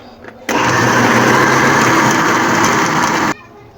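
A grinder blends moong dal with dried red chillies, garlic and ginger, a loud steady whirring roar that starts abruptly, runs about three seconds without a break and cuts off, with faint kitchen sounds before and after.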